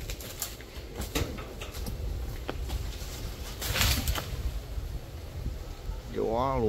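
Wind gusts roar and buffet the microphone outdoors while a large green kapok tree is being cut down, with rain falling. The noise rises and falls in uneven surges, with scattered thin bird calls.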